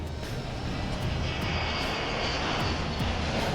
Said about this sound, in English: 1400 Sierra Charlie, clear for takeoff, our discretion